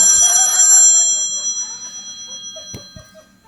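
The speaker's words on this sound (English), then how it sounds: "I'm supposed to have my cell phone ring to make Sean unhappy" A cell phone rings during a lecture, a bright ringing tone that fades over several seconds, followed by a few soft clicks in a quiet hall.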